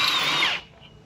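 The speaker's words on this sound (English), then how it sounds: "we're going to need a 22 mil socket to pop off the 6 lug nuts" An impact wrench with a 22 mm socket spins off one of the six lug nuts on a 2007–2013 Chevrolet Silverado 1500 during a brake job, a loud high-pitched whir lasting about half a second, then stopping.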